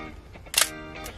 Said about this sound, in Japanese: でもここにね、緊急シャッターというのがここにありまして